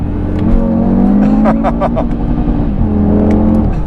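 A 2020 Audi TT RS five-cylinder engine revs hard in a steady low drone, with rising and falling pitch sweeps as gears drop, loud and close throughout.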